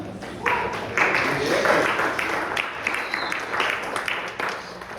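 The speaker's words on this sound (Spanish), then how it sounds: "un aplauso para Gabriela" Classroom applause for a student in a physiology lab, a steady patter of many hands clapping for several seconds with voices and chatter mixed in.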